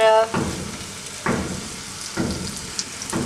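Leftover dal snacks shallow fry in hot oil, with the sizzle swelling into distinct bursts about once a second over a quieter background crackle.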